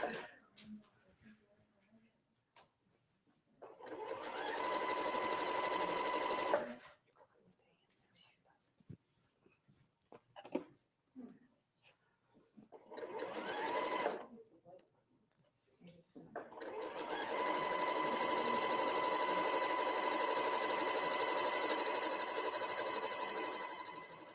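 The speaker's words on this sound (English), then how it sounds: "this is also a really good time for you to listen to your sewing machine" A sewing machine whirs in long continuous runs, stopping and starting a few times, with quiet pauses and faint handling noise between stitching bursts.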